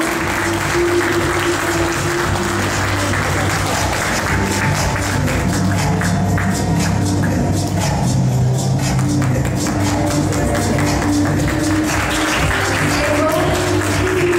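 An audience applauds a model from Varna's Professional High School of Art and Design at the national Young Talents in Fashion competition, with steady, close clapping that runs unbroken and drowns out other sound.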